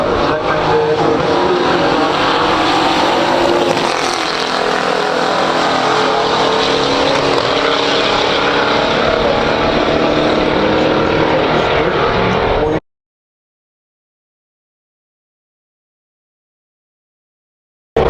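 A 1970 AMC AMX with a 390 engine roars hard down the drag strip in a pure stock drag race, a loud, sustained full-throttle blast for about thirteen seconds before cutting to silence.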